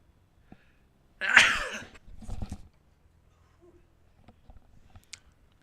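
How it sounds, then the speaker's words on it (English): A single loud, sharp sneeze bursts out close by during a football game broadcast, followed by a softer trailing exhale, with quiet surroundings after. "Good on air sneeze."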